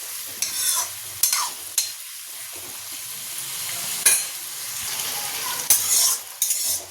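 Food sizzles steadily in a hot pan after a pinch of salt is added, while a spatula scrapes and stirs in several sharp, close bursts over the constant hiss.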